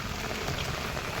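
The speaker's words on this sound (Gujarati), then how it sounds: "વરસાદ પડ્યો અને અત્યારે વરસાદ ચાલુ છે" Heavy monsoon rain pours down in Jam Khambhalia amid flooding, a dense, continuous, loud hiss of downpour with no pause and no voices.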